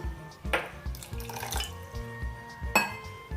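Water being poured into a thick green handvo batter in a bowl, a steady trickling pour with a few splashy accents, heard close and without talk.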